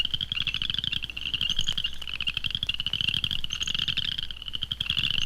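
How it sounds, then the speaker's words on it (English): Cricket frogs calling in a bog, recorded with the microphone down among them: a dense, continuous chorus of rapid, high-pitched clicking trills, close and steady over a low background hum. "Cricket frogs. The microphone is right down there among them in the bog."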